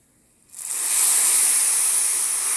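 Black cumin seeds hit hot oil in a tempering (bagar) for dal, bursting into a sudden loud, steady sizzle that holds close and even after a quiet start.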